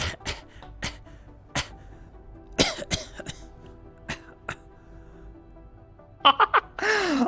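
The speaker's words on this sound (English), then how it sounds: "I guess I assumed you were just coughing." Someone close by coughs in a series of sharp, uneven bursts spread over several seconds, with throat clearing and gasping breaths, ending in a harsher cluster of coughs and a strained vocal sound.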